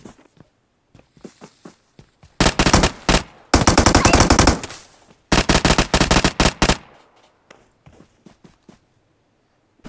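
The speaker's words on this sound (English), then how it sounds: "That was poor shooting by me and him." Bursts of automatic gunfire from PUBG Mobile in the Livik map, with sparse single shots and footsteps leading into three loud, sustained volleys close by, then fading back to scattered steps.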